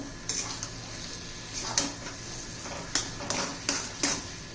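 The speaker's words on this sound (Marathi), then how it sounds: "व्यवस्थित मिक्स करून घ्यायचं आहे" A spoon stirs fenugreek leaves and peas in a pan for a methi matar curry, giving a series of light metallic clinks and scrapes at irregular intervals, close and moderately quiet, with no talking.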